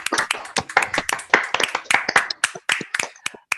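After a talk at an online colloquium, a handful of participants clap over open microphones, giving sparse, close, uneven claps that come through as separate sharp slaps rather than a blended ovation.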